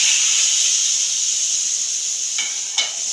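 Spices hiss and sizzle steadily in hot oil for a panchmel dal tempering (baghar), a dense close frying sound with a couple of faint clinks near the end and no talk.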